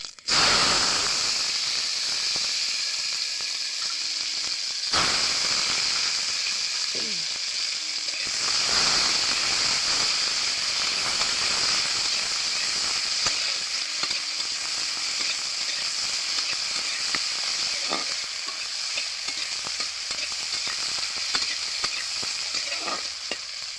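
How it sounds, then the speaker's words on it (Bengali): Whole spices including cinnamon crackle and fry in hot oil in a pan, a steady close sizzle with occasional scraping stirs and light clinks throughout, no voices. "এগুলো একটু হালকা করে নেড়ে নেবো, ভেজে নেবো"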